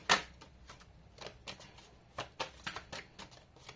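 Tarot cards are shuffled close by for a reading, a sharp riffle at the start followed by a series of soft, irregular flicks and slides, with no voice.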